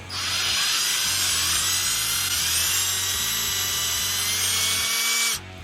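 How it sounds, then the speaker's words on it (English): A steady, high-pitched whine of a drill boring into a metal roller from a Cletrac crawler tractor, continuous and close, cutting off abruptly near the end. "it's really important to keep the drill straight into the hole and not let it go in crooked."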